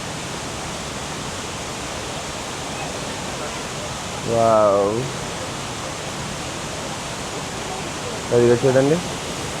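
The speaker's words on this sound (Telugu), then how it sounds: "అక్కడ వాటర్ ఫాల్స్" Steady broadband rush of a waterfall in Vagamon, Kerala, heard from some distance as a constant even wash, with a voice briefly exclaiming twice over it.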